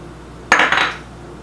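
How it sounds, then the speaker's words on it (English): Garlic, spices, salt, pepper and a bay leaf being stirred together in a bowl for a Greek-style lemon dish, a single sharp clink of a utensil against the bowl followed by a short scraping rattle, close and alone. "So we're just going to mix this all up until it's nice and combined"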